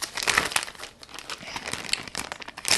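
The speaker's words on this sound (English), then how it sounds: "I'm gonna put a few lace tapes on it" Plastic-backed lace tape crinkles and tears as strips are peeled and pressed onto a lace wig, giving close, continuous rustling crackles with a brief lull.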